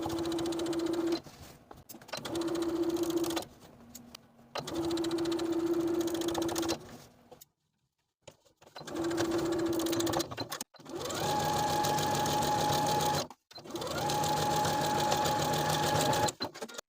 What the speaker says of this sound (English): Now we're going to top stitch that center placket 2 separate times.